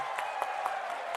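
An audience at a political rally claps in a steady, fairly faint wash of applause with a few sharper individual claps.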